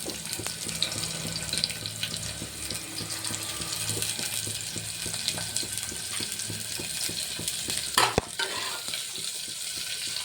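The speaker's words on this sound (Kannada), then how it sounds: "ಈರುಳ್ಳಿ ಫ್ರೈ ಆಗ್ತಿದೆ" Onions frying in a pan for awarekalu sambar give a steady, close sizzle with repeated stirring scrapes and a brief louder clatter near the end, with no talking.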